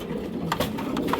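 Pigeons coo in a loft in a short series of soft, low, rounded calls that repeat close by, with no talk over them.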